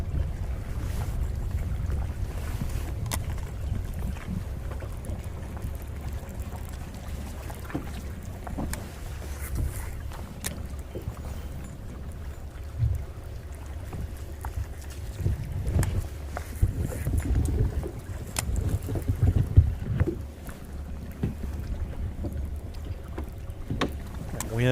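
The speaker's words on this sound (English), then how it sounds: "Wind picking up a little bit, Dudley." Wind picks up on Wright Patman Lake during a fishing tournament, a steady low buffeting rumble against the microphone with intermittent gusts and faint boat and water knocks throughout.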